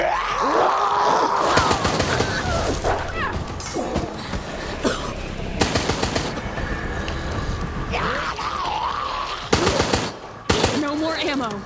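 A minigun in Resident Evil Resistance, wielded by Valerie, fires in repeated rapid bursts, loud and close, broken by gaps and mixed with groans and other game sounds.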